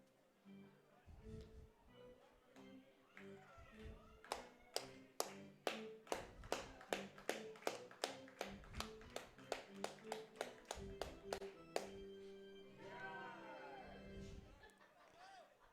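Baseball fans at Elks Field cheering on the Brooks Bombers in a road game, clapping in a steady rhythmic unison beat that builds for about ten seconds, with crowd chatter underneath before and after.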